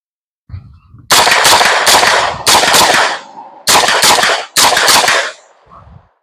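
Rapid bursts of gunfire from a compact Colt rifle with a stick magazine at an outdoor range, several loud close strings of shots separated by short pauses, ending with fainter echoing pops.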